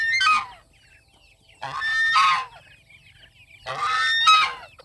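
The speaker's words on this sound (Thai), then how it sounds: "เสียงห่านอีกเสียงดัง" Geese honking nearby in a farmyard, three loud separate bursts of harsh honks spaced about two seconds apart, with quiet gaps between them.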